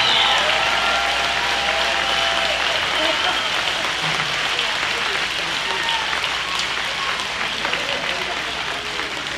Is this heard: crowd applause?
yes